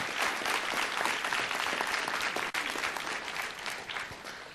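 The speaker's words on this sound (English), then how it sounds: "So nice round of applause for all the parents for doing a great job." Steady applause from a crowd at a city council meeting, honoring parents who drive kids to soccer games, sustained and dense throughout with a brief dip midway.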